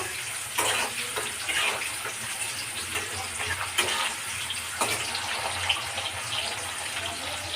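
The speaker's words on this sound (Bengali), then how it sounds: "দেখুন কাজু আর কিশমিশটা আমি ভালো করে লাল লাল করে একটু ভেজে নিচ্ছি।" Cashews and raisins fry in hot oil until golden red, giving a steady hissing sizzle with a few sharp clicks and pops throughout.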